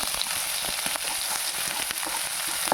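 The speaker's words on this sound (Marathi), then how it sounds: "चांगलं परतून घ्यायचं आहे तेलामध्ये." Mustard seeds, cumin, ground ginger-garlic and curry leaves frying in hot oil, a close, continuous sizzle with small crackles and pops throughout.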